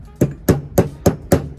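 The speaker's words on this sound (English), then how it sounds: "to knock out this gear, you just need a hammer and the crank with the gear on it" A hammer strikes a gear on a chopper minibike crankshaft five times at an even pace, each hit a sharp, close metallic knock.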